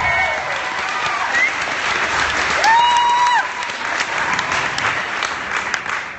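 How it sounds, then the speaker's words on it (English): An audience claps at a live music set in a concert venue, with a dense, sustained wash of applause and brief whistles and cheers rising over it midway, staying loud and full throughout. "I want to give another round of applause"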